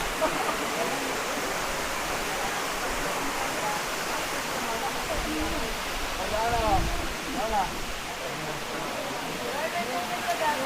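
Lubcon Falls in Cortes, Surigao del Sur pours in a steady, broad rush of falling water, constant and enveloping, while someone talks over it close by.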